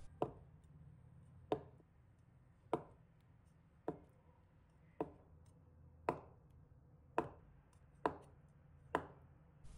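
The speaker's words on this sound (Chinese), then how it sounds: "然后切成1厘米左右的薄片，切的时候也要轻轻的切，以免碎裂" A knife cutting tofu into thin slices on a cutting board: nine soft, evenly spaced taps about one second apart, near and quiet over a low background hum, no voices.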